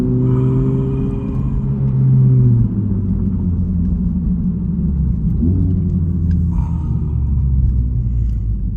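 A Honda Civic FL5 Type R with an aftermarket exhaust revs through different RPMs, a loud, deep exhaust drone rising and falling with a couple of shifts in pitch, close and steady with faint pops.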